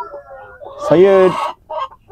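A Sussex chicken on a farm gives a drawn-out squawk between softer clucks, heard close and clear.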